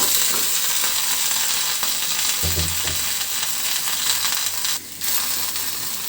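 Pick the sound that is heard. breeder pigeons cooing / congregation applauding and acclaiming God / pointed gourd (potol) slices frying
pointed gourd (potol) slices frying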